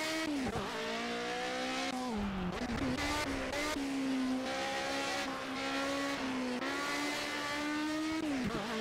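Historic GT 5 race car in the video game Project Cars, its engine droning steadily and loud, with pitch dips and rises through gear changes and braking, plus occasional tire squeal.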